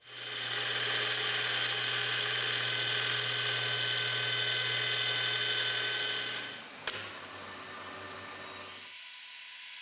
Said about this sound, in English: I'll just drill and tap the other hole.